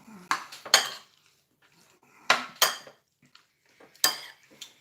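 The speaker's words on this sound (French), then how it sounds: "le tout, c'est maintenant de mélanger ça comme il faut" Food being mixed in a dish with a metal utensil, three pairs of sharp clinking, scraping strokes spaced about two seconds apart, close and clear against near silence.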